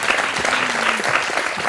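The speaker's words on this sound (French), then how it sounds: "Est-ce que on peut les applaudir" An audience applauds a trio of artists at a talk on mediation, art and children, the clapping dense, steady and close throughout.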